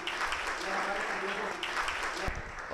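Audience at an Anand Ashram trust function in Karakhadi claps to welcome a guest, faint continuous applause blending with crowd murmur and a speaking voice.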